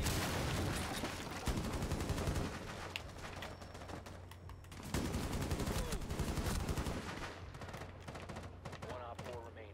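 Rainbow Six Siege gunfire during a hostage round: sustained automatic bursts and rapid shots, loud and close, with continuous rattling fire throughout and faint voices underneath.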